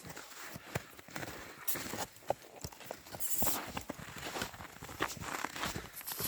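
A horse's hooves clop along at an unhurried walking pace as it is led, a steady series of close, distinct steps with faint rustling and background noise in between.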